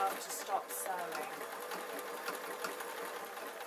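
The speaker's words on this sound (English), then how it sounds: "So I am going to start sewing at the end of that." A sewing machine runs steadily, stitching a small fabric tooth-fairy pillow, a continuous rapid whirring chatter at close range, fairly quiet, with no pauses.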